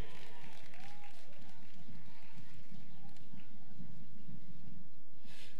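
An audience applauds at a carnival presentation, producing a dense, steady wash of clapping with crowd noise and voices mixed throughout.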